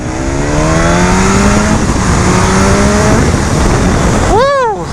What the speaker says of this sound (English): Boy, does that sound really good with that aftermarket exhaust